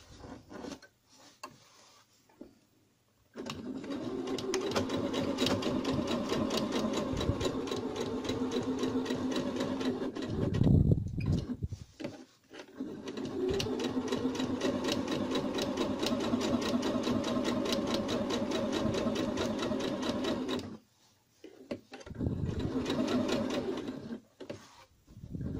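A sewing machine stitches fabric doll parts, whirring close and steady in two long runs with short pauses between them and a brief burst near the end.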